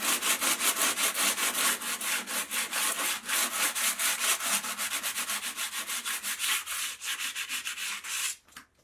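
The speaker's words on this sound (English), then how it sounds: "I went ahead and I hit it with the 80 grit." Hand sanding metal on a Jeep XJ with 80 grit sandpaper, a close, loud, rhythmic rasping of quick back-and-forth strokes that continues steadily and stops abruptly at the end.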